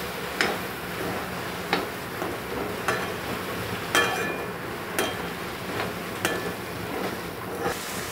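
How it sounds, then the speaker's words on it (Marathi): Potatoes and cluster beans frying in a pan, a steady sizzle with periodic clicks and scrapes from stirring, close and continuous without speech. "आता बटाटे टाकूया। मोठे मोठे चिरून घेतलेत, खूप छान लागतं। चांगलं मिक्स करूया।"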